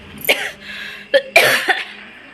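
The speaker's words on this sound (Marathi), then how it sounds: "खोकला पण लागलाय" Two or three harsh, close coughs from a woman in her kitchen, in quick succession, loud and raspy, with no talking.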